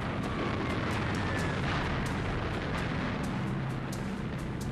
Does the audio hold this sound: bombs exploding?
yes